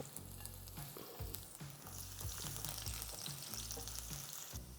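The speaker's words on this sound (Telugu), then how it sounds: "ఒక tablespoon ఆయిల్ యాడ్ చేస్తున్నాను. చాప్ చేసుకున్న గార్లిక్ 5 cloves వేస్తున్నాను" Chopped garlic and ginger fry in a spoonful of oil for a pomfret fish fry, a steady close sizzle with scattered stirring knocks and scrapes throughout, no talking.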